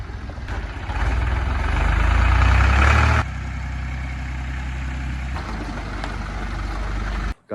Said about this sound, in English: my dad's going through with the zeter and the scraper blade, getting them even back out.